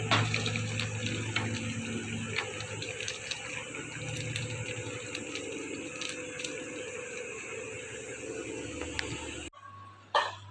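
Water from boiled raw mango pieces for murabba is drained off, a steady close pouring and trickling flow that runs for about nine seconds, then cuts out, followed by a brief knock.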